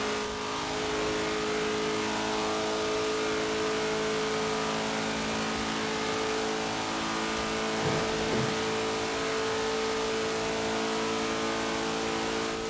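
A Jaguar E-type drives in Forza Horizon 4 with a loud, steady engine drone rich in even harmonics, holding a constant pitch with a brief wobble partway through and no talk.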